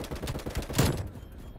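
TEC9 submachine gun fire in Black Ops Cold War, a rapid burst of close shots with a louder crack partway through, trailing off into quiet.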